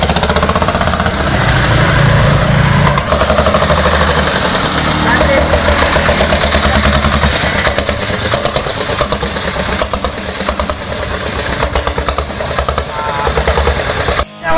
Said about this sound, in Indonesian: Ini mesin diesel RATNA dan ini pakai Yamaha L2G super